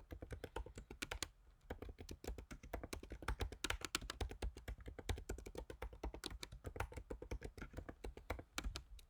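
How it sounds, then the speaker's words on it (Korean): Rapid, steady typing of R code on a computer keyboard, a dense stream of close, crisp key taps running the whole time with no talking. "교재 464페이지에 있는 첫 번째 코드를 한번 타이핑해 보도록 하겠습니다"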